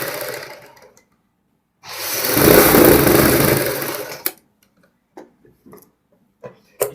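A sewing machine runs in one steady burst of about two seconds, stitching the neck of a blouse at home, followed by a few sharp clicks and quiet handling sounds.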